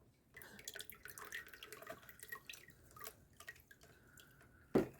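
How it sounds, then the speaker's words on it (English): Murky water from a freshwater aquarium being emptied out, heard as faint irregular drips and small splashes trickling for several seconds, ending in one louder close splash. "then you just got to empty all the water out that's in it"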